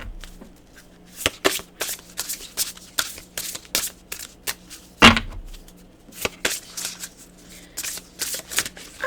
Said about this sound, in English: Let's get one more card from this deck here, please.